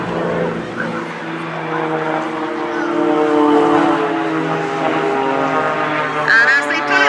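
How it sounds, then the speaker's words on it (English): Blades aerobatic propeller aircraft at the Teignmouth Airshow perform aileron rolls, their engines droning steadily and swelling louder mid-pass, while a commentator talks over the noise. "first they're going to perform some aileron rolls for you"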